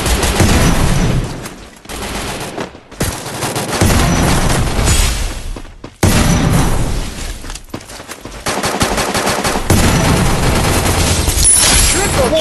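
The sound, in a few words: gunfire as enemies are killed in a video game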